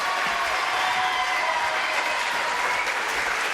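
A French television studio audience applauds on a comedy variety show, loud sustained clapping filling the whole stretch with a faint murmur of crowd beneath.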